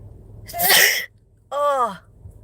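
A single sharp sneeze bursts out close to the microphone, followed by a short voiced exclamation after a brief pause.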